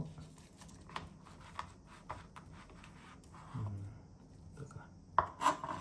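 A sharp knife cuts a homemade sushi roll on a board, giving faint, scattered taps and slicing strokes, then a couple of louder knocks near the end in a quiet room.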